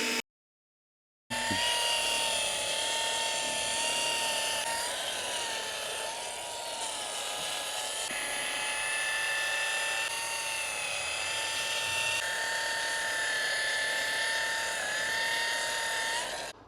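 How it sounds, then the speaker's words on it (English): Machine polisher buffing the paint of a new BMW M340i, a steady high-pitched whine with a wavering tone, loud and continuous after a brief silent start, with no talking. "we finish polishing, decontamination plus the polishing in terms of tiny micro little swirls and scratches from front bumper"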